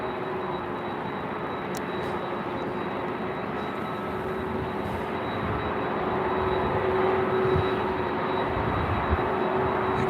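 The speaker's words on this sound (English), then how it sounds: "You can definitely hear that 767." A Boeing 767 airliner at LAX produces a steady, droning engine roar with a sustained whine, fairly distant and building slightly toward the end, with no talking.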